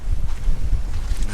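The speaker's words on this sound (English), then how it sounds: "it's windy and the wind is in the wrong direction" Gusty wind buffets the microphone outdoors at a campsite, a loud, continuous low rumble with fluctuating bursts and no speech.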